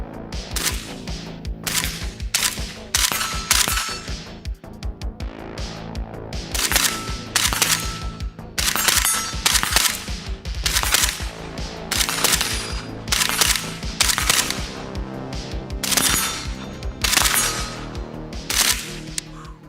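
A suppressed 5.56 AK rifle fitted with a KNS piston fires string after string of sharp, close shots. Rapid bursts and single reports are broken by short pauses, with metallic action clatter and no talking.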